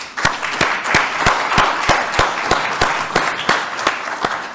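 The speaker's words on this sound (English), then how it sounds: "A round of applause, please, for the panel." A small audience applauds a panel, clapping in a steady, fairly even rhythm, close by and moderately loud, with no voices over it.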